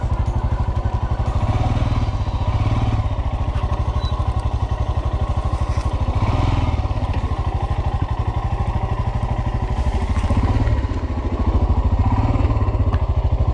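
Motorcycle engine chugging with a rapid, steady rhythmic pulse while riding across a suspension bridge in Nepal, loud and close with some clattering thumps from the deck.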